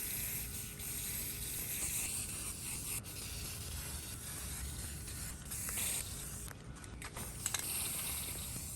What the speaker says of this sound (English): This is a very old can of primer. It's just barely spraying.